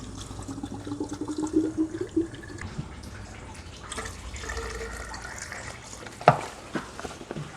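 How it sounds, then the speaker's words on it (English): Plain water runs into the cooling system of a wrecked BMW 540i during a coolant flush, a low, continuous gurgling flow with small drips and one sharp knock near the end, and no talking. "I'll proceed with coolant flush"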